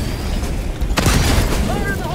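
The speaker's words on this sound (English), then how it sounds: "Walking orbital barrage going out on them" Walking orbital barrage strikes land in Helldivers 2 as a heavy booming blast hits near the midpoint, then rolling explosive rumble continues amid dense battlefield noise, with players talking over it.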